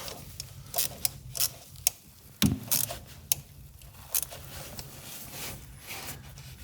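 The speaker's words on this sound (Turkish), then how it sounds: "Cıvatalarını sıkıyorum." Water pump bolts on a VW TSI engine are tightened by hand, making a run of sharp metallic clicks and ratcheting ticks at irregular intervals, close by and alone.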